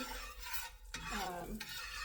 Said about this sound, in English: I'm gonna let this butter melt